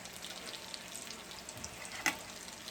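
Cornbread fritter batter with onions frying in a pan, a steady soft sizzle with a brief louder crackle near the end, no one talking.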